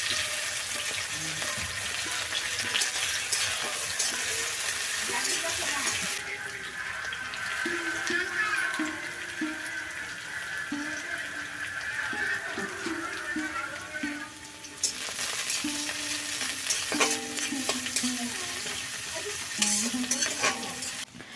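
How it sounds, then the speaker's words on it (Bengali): Chopped onion, crushed garlic and ginger fry in a wok for ghugni, giving a steady hiss and sizzle that runs throughout. Stirring and scraping break in now and then, and a voice speaks faintly under the frying. "এই যে কড়াই দিয়ে দিলাম পেঁয়াজ কুচি আর রসুন, আর হলো আদা থেতো করে নিয়েছিলাম, সেগুলো দিয়ে দিয়েছি"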